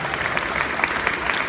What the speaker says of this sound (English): Give Jonathan McNabb a big round of applause.